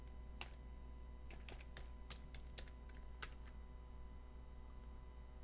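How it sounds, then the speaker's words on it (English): Typing on a computer keyboard while entering script code in Drupal 8, a short uneven burst of soft key taps over a steady background hum, with no talk. "So I'm going to actually type this in this time."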